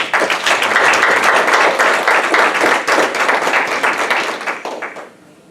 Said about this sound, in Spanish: ¿Le da el aplauso a Jesucristo?